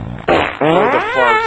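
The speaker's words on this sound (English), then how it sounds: "Oh, the farts, yeah, the fart sounds" Soundboard fart effects play one after another: a short blurt, then a longer, wavering, squeaky fart that runs to the end, loud and close with no talking.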